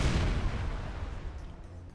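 A shotgun fires with the Overkill ability in the video game Mass Effect, one loud, heavy boom that tails off over about two seconds.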